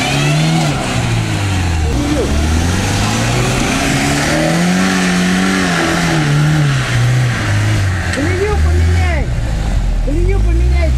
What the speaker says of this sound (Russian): Давай с места разгазовывай и погнал.